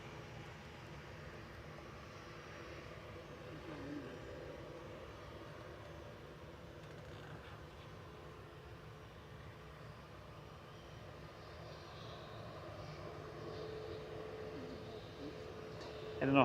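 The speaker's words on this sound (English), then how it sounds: "the Ryanair is now leaving." A Ryanair Boeing 737 MAX 8200 airliner departing Manchester Airport, a low, steady jet rumble at a distance that swells slightly near the end, with a voice faintly audible underneath.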